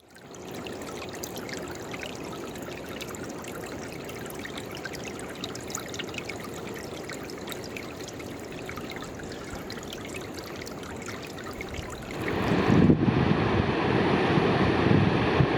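Klamath River water flowing steadily, a continuous rushing and trickling wash heard alone, growing louder and fuller toward the end.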